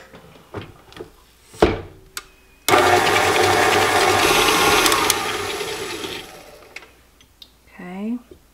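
An electric mixer creaming shortening, sugar and orange peel whirs loudly for a few seconds, then fades. Clicks and knocks come before it, and a voice speaks briefly at the end.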